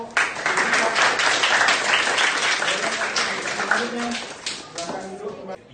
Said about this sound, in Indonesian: Ya, tepuk tangan untuk